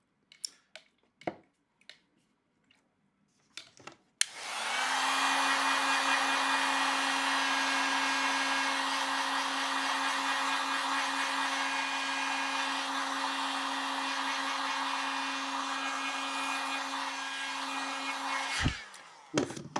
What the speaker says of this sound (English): I have this heat gun on the high setting.